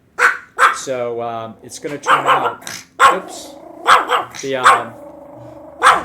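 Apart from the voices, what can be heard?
dog barking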